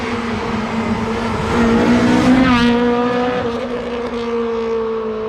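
A heavily modified Honda Civic EM1 VTi engine drones loudly and steadily nearby, its pitch rising into a stronger rev around the middle before settling back to a sustained hum.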